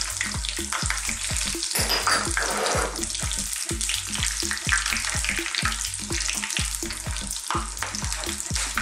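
Whole spices (cinnamon, cloves, green cardamom, dried chili, peppercorns and cumin seeds) roast in hot oil in a karahi, giving a loud, close, crackling sizzle with a steady pulsing rhythm throughout.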